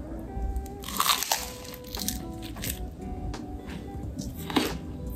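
Biting and chewing crunchy apple with peanut butter toast, close crisp crunches and moist squishing in irregular bites, with no talk over them.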